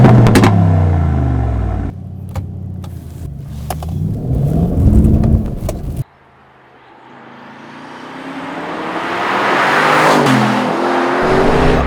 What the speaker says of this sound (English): A 4-litre twin turbocharged V8 which produces 800 Nm of torque